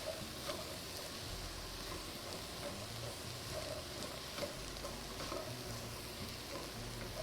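Carrots and celery sautéing in a soup pot, a faint, continuous soft sizzle with light crackle, steady and quiet throughout, no voices.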